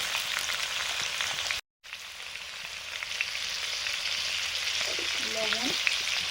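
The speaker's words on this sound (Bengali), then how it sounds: "সব আলুগুলো দিয়ে দিলাম।" Sliced potatoes hit hot oil with cumin in a pan, a steady broadband sizzle of frying that briefly cuts out, then resumes with occasional stirring scrapes and a faint tonal clink near the end.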